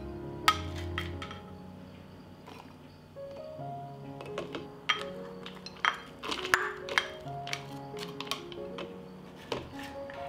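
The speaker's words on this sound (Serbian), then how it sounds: "Zatim u teglu sipam seckani crni luk." Chopped onion is tipped into a clean glass jar, giving a sparse run of light clinks and taps against the glass, close and fairly quiet, with no talking.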